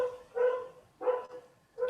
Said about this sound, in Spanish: tocaron el timbre y mi perro enloquece